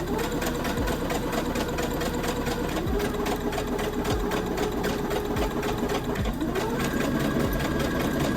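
Sewing machine under-stitching the neckline seam of a velvet dress, a close, continuous steady mechanical whir with rapid needle clatter running the whole time.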